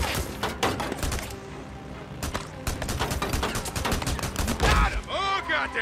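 Rapid gunfire in the video game Days Gone, a dense string of loud, close shots with a metallic whine near the end and someone shouting over it.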